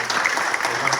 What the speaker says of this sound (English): how about one final round of applause for all the good things that are happening